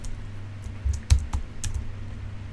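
A command is typed on a computer keyboard, a quick run of soft, close key clicks with a low steady hum behind them and no voices.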